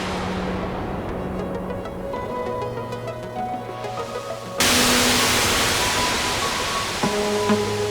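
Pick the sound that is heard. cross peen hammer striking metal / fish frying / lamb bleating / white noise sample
white noise sample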